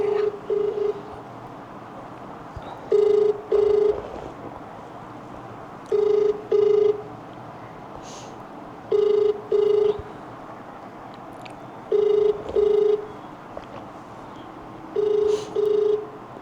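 An outgoing phone call rings without being answered, paired double ringback tones repeating about every three seconds, clear and steady over a quiet room.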